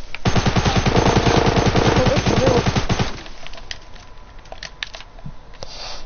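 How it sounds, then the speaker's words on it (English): Rapid automatic gunfire rattles loud and close in a video game for about three seconds, then stops, leaving quieter scattered clicks and small game sounds. "I'm shooting at that tree."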